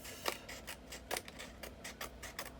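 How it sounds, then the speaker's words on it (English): Scissors snip the edges of a paper recipe album cover in a steady series of sharp, close cuts, each a crisp bright snap, with no voices. "So I'm just going to grab my scissors here and just trim a little bit off."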